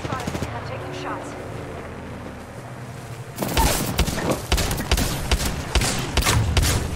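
Gunfire in the shooter game Apex Legends breaks out in a dense burst of rapid, loud shots after a quieter opening stretch, with a voice talking underneath.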